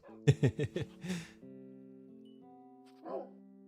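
Wolves barking in the video game A Fox's Life 2, a quick run of four or five yappy barks close up, followed by a steady game tone and a short whimpering yip near the end.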